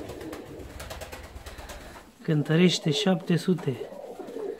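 A fancy pigeon, a young male of over 700 grams, coos in a series of low rhythmic calls close by, following a stretch of background noise, with someone talking.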